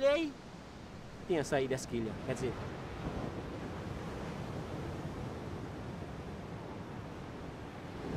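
Ocean surf along the shore at Fernando de Noronha, a steady broad wash of breaking waves running throughout, with a brief burst of voices near the start.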